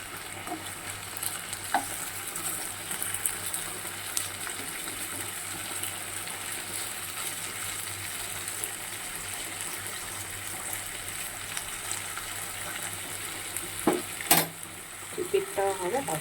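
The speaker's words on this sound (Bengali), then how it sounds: "চিকেন বল পকোড়া বানানোর জন্য মানে চিকেনটা আগে ভেজে নিতে হবে।" Chicken pieces fry in oil for chicken ball pakora, with a constant soft hiss of sizzling oil throughout. A few clatters and stirring scrapes come near the end.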